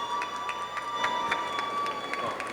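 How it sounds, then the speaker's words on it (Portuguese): Faint, distant applause from a live audience at a stage panel on animation dubbing, a steady wash of clapping with a few brief louder bursts and a low constant hum underneath. "Uma salva de palmas, por favor."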